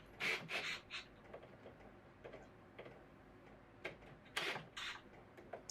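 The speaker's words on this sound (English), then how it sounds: "Here you can see I'm screwing in the lag screws." Lag screws being driven into plywood in a wood shop, a series of faint ticking, rasping turns and short creaks at an uneven pace, quiet and close, with no talking.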